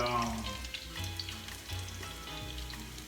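Garlic frying in olive oil: a steady, close sizzle with continuous fine crackle. A low hum runs underneath throughout.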